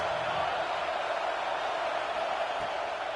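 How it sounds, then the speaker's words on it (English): Stadium crowd at a college football game, Auburn at Tennessee, roaring steadily to help the defense on third and long, a dense unbroken wall of noise with no clear peaks. "Listen to this crowd just shaking the girders of this place, trying to help their defense."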